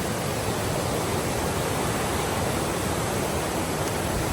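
Rushing water of a mountain stream on Teapot Mountain in Taiwan, a dense, constant broadband roar of flowing water close by, with no voices.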